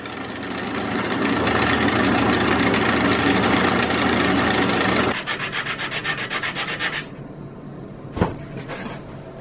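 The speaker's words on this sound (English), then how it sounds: "If this thing will drill" A blunt drill bit grinds through metal with a loud, harsh, continuous grating for several seconds, then stutters in uneven bursts as it struggles, before stopping with a sharp knock and faint rattle. No voices.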